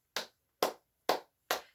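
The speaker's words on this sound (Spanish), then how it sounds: "por ejemplo, palmadas" Four crisp hand claps ring out one after another at a steady, slightly quickening pace, close and clear with silence between each.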